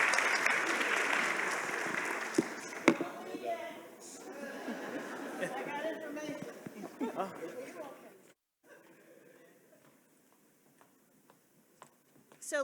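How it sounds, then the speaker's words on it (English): Audience applause for a panel at a community safety summit plenary session, a broad wash of clapping at first that thins out and fades to near silence partway through, with some chatter mixed in. "So let's give this panel another round of applause."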